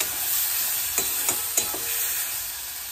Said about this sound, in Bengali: এবারে ভালো করে মিশিয়ে নেব। মানে ভালো করে কষতে হবে যতক্ষণ না পর্যন্ত হালকা তেল ছাড়ে